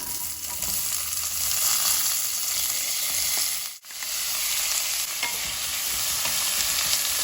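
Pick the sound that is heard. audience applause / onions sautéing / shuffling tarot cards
onions sautéing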